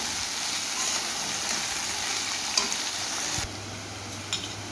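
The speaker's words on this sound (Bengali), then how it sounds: "গাজর আর বিনসটা ভাজা হয়ে গেছে" Carrots and beans fry in a pan, salted and without turmeric, for fried rice, giving a steady close sizzle and hiss that drops slightly near the end, with a few faint utensil clicks.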